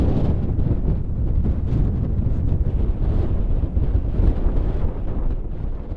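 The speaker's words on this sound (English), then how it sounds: "Windy up here." Strong wind roars and buffets steadily against the microphone on a Colorado mountain pass, a constant low rumbling gust with no voices.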